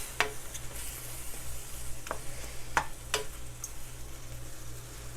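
Japanese curry with long-cut daikon and other vegetables being stirred in a pan, giving a steady low sizzle with a few sharp scraping clicks from the spoon, close and alone with no talk.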